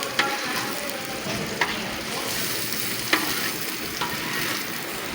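Okra (bhindi) frying in a pan in a village kitchen, a steady close sizzle with a few sharp stirring clicks and scrapes, no talking.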